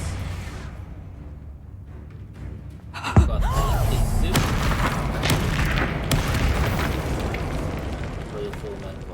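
Explosion spells cast in Hogwarts Legacy: a quiet rumble broken by a sharp, heavy blast that gives way to roaring, crackling fiery bursts and repeated thuds, with voices speaking over the din.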